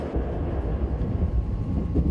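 Inside a Mugunghwa local passenger train in Korea, a continuous low rumbling and rattling of the carriage while moving, steady and moderately loud with no talk.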